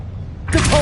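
A Confringo blasting spell from Hogwarts Legacy bursts loud and close, erupting suddenly after a quiet low rumble and sustaining a bright crackling burst with a whistling tone through to the end.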